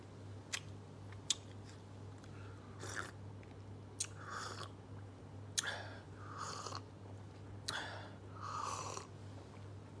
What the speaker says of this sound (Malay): Ini saya kunyah.